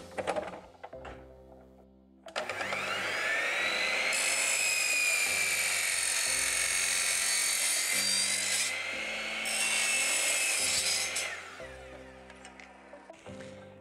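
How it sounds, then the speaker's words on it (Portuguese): A power saw cuts a piece of wooden paneling (lambril) while a small door is being built. The loud, continuous high whine runs for about nine seconds and dips once midway, with no talk. "onde eu vou estar tá recortando o grau desse lambril aqui daí"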